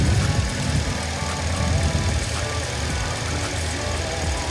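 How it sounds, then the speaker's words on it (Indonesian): Car engine idling smoothly as its revs settle lower, a steady close mechanical drone with a faint rhythmic chug running throughout, with no voices. "Halus, RPM-nya makin turun, makin halus sekarang."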